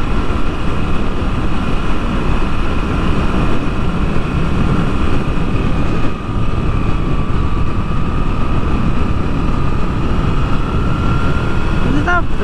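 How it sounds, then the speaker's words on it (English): A Moto Guzzi V7 Stone motorcycle being ridden, giving a steady, loud engine and wind roar that holds unbroken for the whole stretch, with a faint tonal whine riding above it. "I just can't stop smiling riding this bike."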